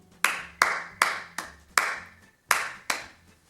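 Seven crisp hand claps beat out an uneven rhythm pattern, close and dry with short decays, repeated as a music exercise with no voices in between.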